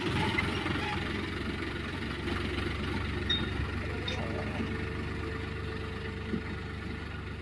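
A tractor engine idles and rumbles steadily in an open farm field where it has arrived to sow a crop, with a constant low drone and occasional faint knocks over outdoor background noise.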